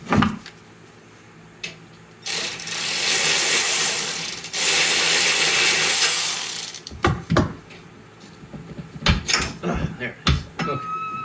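A ratchet clicks and cranks at a bolt on a Murray riding mower's transaxle, with a long loud grinding stretch, then scattered metallic clicks and clanks close by.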